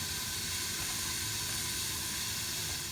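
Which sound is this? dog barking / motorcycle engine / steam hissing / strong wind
steam hissing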